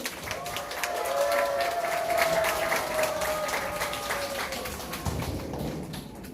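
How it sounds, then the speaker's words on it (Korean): Children clapping during an elementary-school church worship service, a sustained round of applause as a teacher comes forward, with a faint tone and other people's voices in the background. "나오실 때 박수!"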